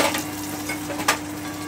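Onion and tomato frying in a pan for a spinach paneer dish, giving a steady broadband sizzle with a low hum beneath and one brief louder crackle near the end, heard close with no talking.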